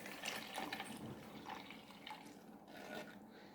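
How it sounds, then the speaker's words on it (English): Almond milk poured from a jug into a chia seed mixture, a faint, steady liquid splashing and trickling stream heard up close and alone for several seconds. "I'm just going to pour that into the mixture."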